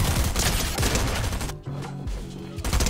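Repeated shotgun blasts from a video game, a dense run of loud booming shots with a brief lull midway before firing resumes.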